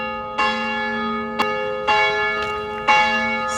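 A church bell tolls the quarter hour outdoors, several ringing strikes about a second apart, each with a long sustained hum, close and loud with no talk.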